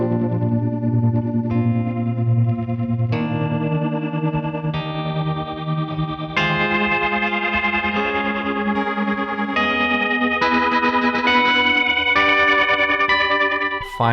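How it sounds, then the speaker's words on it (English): An electric guitar plays sustained chords through an H90 pedal's Undulator delay-tremolo effect, swirling and pulsing, the notes wavering and repeating in a thick, slightly distorted wash. "the last complex effect algorithm I want to talk about is the undulator"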